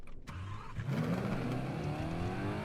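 A Bugatti sports car engine revs hard and climbs in pitch, rising from a low rumble to a loud, steady roar that carries on to the end, with no talking.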